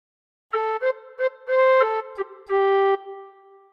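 Tin whistle plays a short melody phrase of several clean, sustained notes separated by brief breath gaps, close and clear with no talking.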